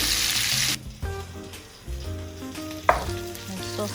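Sausages frying in a pan give a loud, dense sizzle for the first moment, then the hiss drops to a softer crackle beneath tonal kitchen clatter, with one sharp clink near the end.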